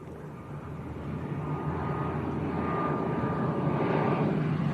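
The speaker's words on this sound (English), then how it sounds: "Back-to-back Binter departures, this one's an ATR, just getting airborne." Binter ATR turboprop airliner getting airborne on departure from Lanzarote Arrecife Airport, a steady, building engine roar with a faint tonal whine, heard from a distance and growing gradually louder throughout.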